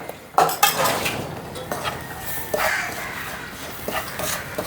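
Green chillies with crushed ginger and garlic being stirred in a pan for a beef fry, with a utensil scraping and clinking against the pan in repeated strokes over a soft, steady background.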